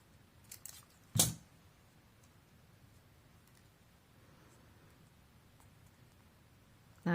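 Scissors snip excess copper tape with one crisp, close cut, preceded by a couple of light rustles and followed by near silence.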